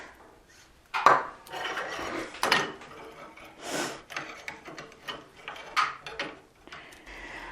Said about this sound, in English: I'm going to be using a 2/0 saw blade and a little burr